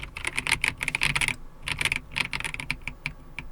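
Rapid clicking of a Logitech G316 X 98 mechanical keyboard, a fast burst of keystrokes, a short pause, then another irregular run of presses, close and crisp.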